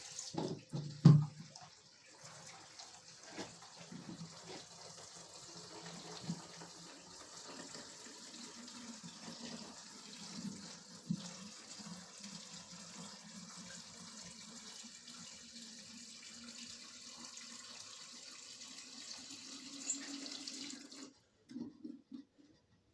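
Water runs steadily into a pigeon water tank for most of the clip, a continuous hissing pour with a few clunks at the start, stopping near the end.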